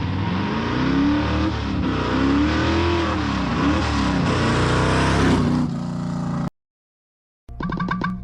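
A car engine revs hard and repeatedly to blow carbon out of its exhaust, a loud, close roar rising and falling in pitch, then cutting abruptly to silence before a brief sputtering restart.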